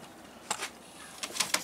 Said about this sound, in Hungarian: Na most akkor gyakorlatilag kézbe veszik a galambokat, megnézegetik, véleményt mondanak.